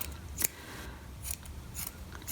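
Scissors snipping pom pom yarn up close, with three crisp, quiet cuts spaced across a soft background hiss and no talking.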